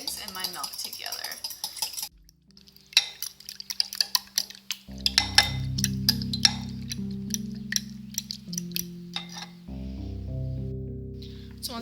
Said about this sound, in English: I'm going to take a long fork, and I'm going to whisk my eggs and my milk together